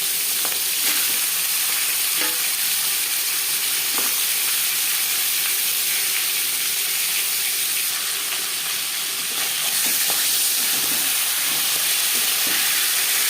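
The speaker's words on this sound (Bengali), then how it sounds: "পরিমাণ মতো রিফাইন্ড অয়েল গরম করে নেওয়ার পর দিয়ে দেবো মাছের মাথা।" Katla fish heads frying in hot refined oil give a steady, loud sizzle with scattered pops and occasional clinks of stirring. It carries on without a break for the whole stretch, with no voices.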